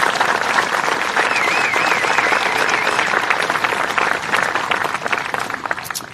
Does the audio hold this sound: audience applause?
yes